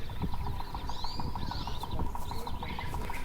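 Impala footsteps in the Roblox animal game Savannah Life, a steady run of soft clip-clop hoofbeats over a constant ambient bed with bird chirps, moderately loud and without speech.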